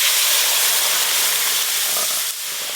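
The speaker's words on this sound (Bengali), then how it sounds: "এবার ডালটা ছকে দেব।" Dal tipped into hot oil with lightly fried onions and turmeric powder sizzles as a loud, steady steamy hiss that runs unbroken, easing slightly toward the end.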